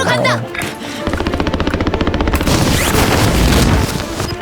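Call of Duty: Warzone gunfire: loud, rapid automatic bursts with a fast regular rhythm, mixed with booming impacts and other game noise, with players talking over it.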